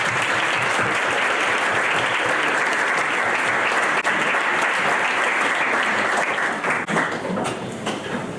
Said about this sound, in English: round of applause for Madame Kosciusko-Morizet